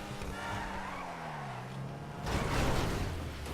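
An Ocelot Ardent sports car drives in GTA Online, its engine note humming and gliding downward before tires hiss and skid in a louder, rougher wash of noise.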